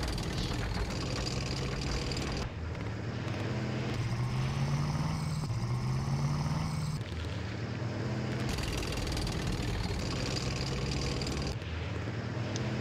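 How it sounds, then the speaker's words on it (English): Steady engine drone with rising and falling pitch from motorcycle engines in the John Tiller Campaign Series West Front wargame, continuous and fairly loud throughout. "I can hear some motorcycles there."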